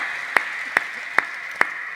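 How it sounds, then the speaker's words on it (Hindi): Four sharp, evenly spaced claps ring out at an outdoor Hindi kavi sammelan poetry recital, standing out crisply over a steady background hiss with no talking. "ताली वाली बजा लीजिए"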